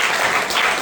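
Audience applause at a motivational talk on confidence, a dense, steady wash of many hands clapping close and loud throughout the short moment, with no voices over it.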